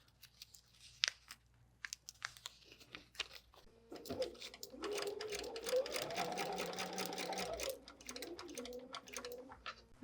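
A few scattered clicks and handling sounds, then a home sewing machine stitching through fabric and paper for foundation paper piecing, running steadily for about four seconds before stopping, close and fairly quiet with no voices.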